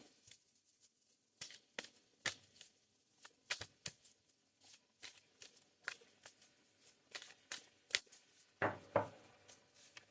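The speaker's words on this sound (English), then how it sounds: "So let's shuffle these cards and do 1 of each." A deck of tarot cards is shuffled by hand in a quiet room, giving close, irregular riffles and soft slaps with brief pauses between bursts.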